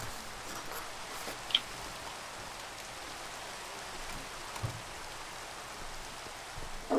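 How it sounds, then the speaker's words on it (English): Rain falls in Minecraft, a steady soft hiss of raindrops that continues throughout, with a couple of faint clicks and no talk. "It's raining."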